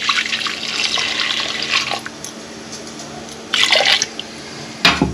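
Water poured into a bowl of spiced mango drink mix with salt and roasted cumin in a home kitchen, heard as a running, splashing pour in bursts of varying strength, with no talk.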